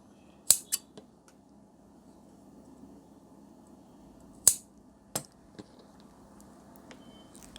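Tailoring scissors snip through blouse fabric in a few sharp, close clicks, scattered and separated by quiet pauses in an otherwise still room.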